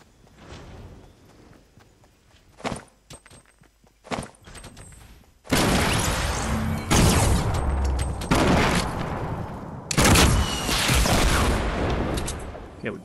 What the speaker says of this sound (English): somebody's shooting us from the back